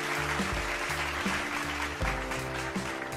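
Steady applause from a crowd in Minecraft fills the clip, mixed with a repeating low musical pattern underneath.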